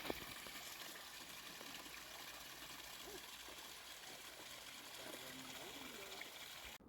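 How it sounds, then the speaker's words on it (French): Small waterfall on a quiet river outdoors, a steady broadband rush of falling water that stays even and continuous throughout, close and moderately loud. "Ah, c'est cute, une petite chute."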